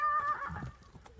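A black mare whinnies at a horse sale, a short bright neigh followed by a few quieter hoof clip-clops nearby, with no talk.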